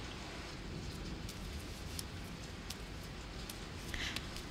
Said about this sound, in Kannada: ಹೊರಗಡೆ ಮಳೆ